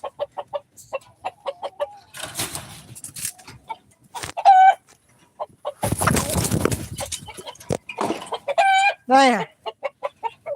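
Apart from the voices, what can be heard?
chickens, hens and rooster clucking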